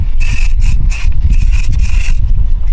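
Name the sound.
aerosol deodorizer sprayed onto car cabin filter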